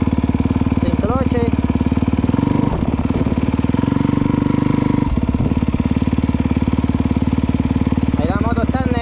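A motorcycle engine idles steadily in neutral, a loud, close, even mechanical throb with a brief lower dip midway and a small clatter near the end.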